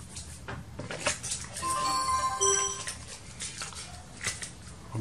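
An ASUS S400 laptop powering on with no memory installed gives out a series of electronic beep tones over faint handling noise, the sequence repeating in a steady pattern.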